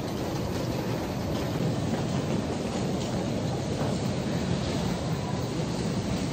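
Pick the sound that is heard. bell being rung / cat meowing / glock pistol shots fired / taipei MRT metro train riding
taipei MRT metro train riding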